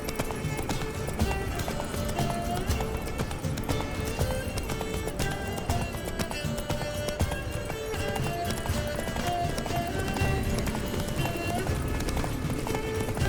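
A horse gallops in The Witcher 3 with a rhythmic, continuous clip-clop of hooves, joined by occasional neighs and whinnies, all under steady game music.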